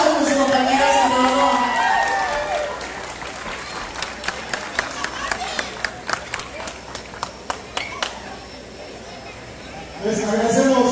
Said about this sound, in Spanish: Fuerte el aplauso por su compañero, señor.